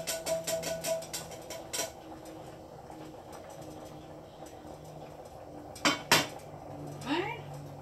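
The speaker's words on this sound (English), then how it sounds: "I'm going to strain the meat, and I'm going to do it over the dog bowl." Cooked ground meat is strained over a dog bowl, producing a rapid run of metallic clinks and rattles at first, then quieter clattering with a couple of sharp knocks and scrapes of the strainer near the end.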